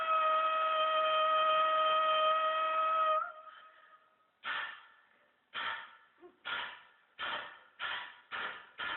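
A voice imitates a steam train: a long, steady whistle blast, then rhythmic chuffing puffs that quicken as the engine gets going.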